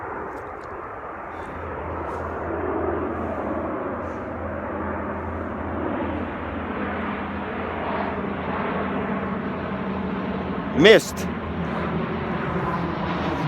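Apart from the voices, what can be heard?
airplane flying overhead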